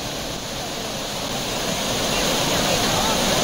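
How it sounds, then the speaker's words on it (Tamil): Floodwater roars over the waterfalls at Courtallam, a dense, steady rush of falling water that fills the whole clip and swells slightly louder toward the end. "குற்றாலத்தில் உள்ள அனைத்து அருவிகளிலும் வெள்ளப்பெருக்கு ஏற்பட்டுள்ளது."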